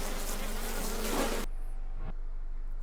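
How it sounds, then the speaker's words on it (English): Wasps buzz loudly in the video game Fear Equation, a dense, steady insect drone that cuts off abruptly partway through and leaves near silence. "We're attacked by wasps."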